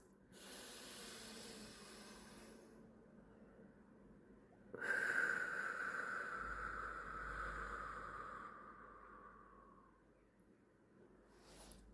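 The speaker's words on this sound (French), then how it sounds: "On inspire et on expire." Slow deep breathing during a guided exercise session, a long breathy inhale followed by a louder, rushing exhale with a hissing quality, close and alone without speech.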